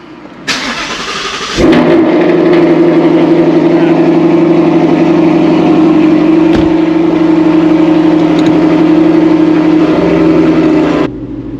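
A Ford Mustang's engine cranks and catches on a cold start after a brief quiet moment. It then settles into a loud, steady, close-up idle that holds until the end.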